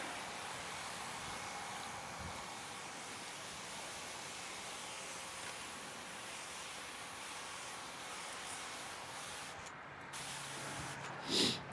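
Water spray rinses down the side of a car after a rinseless-wash soak, a loud, steady hiss running unbroken for about twelve seconds with a brief clunk near the end.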